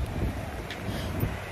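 Wind buffets the microphone in low, rumbling gusts on a rainy day in Fort Lauderdale, with a faint hiss of outdoor air and no voices.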